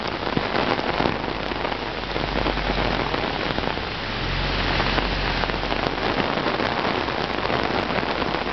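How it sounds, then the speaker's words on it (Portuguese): Steady, dense rain pours down on a street in Vila Regina, Itaquera, São Paulo, a continuous close hiss of drops on wet surfaces with a low rumble underneath, with no pauses and no voices. "Olha como que tá aqui a chuva."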